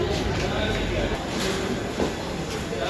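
Inside a moving train near Ghaziabad, a constant loud rumble and rattle of the carriage runs throughout, with people talking over the steady din.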